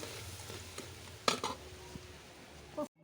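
A crab fry is stirred in a pan on a wood stove, with a soft sizzle beneath sharp metallic scrapes and clinks of a spoon. Two distinct clanks come near the middle and one more just before the sound cuts off abruptly.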